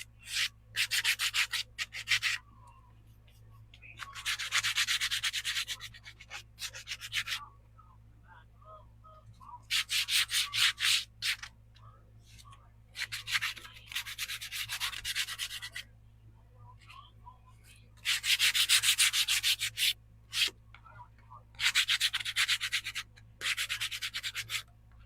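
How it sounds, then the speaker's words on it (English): Bursts of hand sanding on wood, a rough scratchy rasp repeated in strokes lasting a few seconds each, with short pauses between them and a low steady hum underneath. "so let's do some sanding. I just want to smooth it out"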